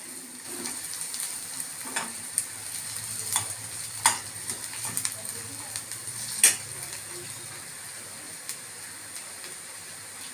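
Peppercorns and garlic powder fry in a pan with a soft, steady sizzle. Light crackles and occasional ticking taps of a spoon against the pan sound through it.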